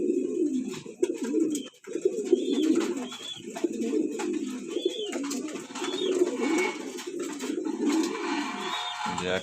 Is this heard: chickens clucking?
no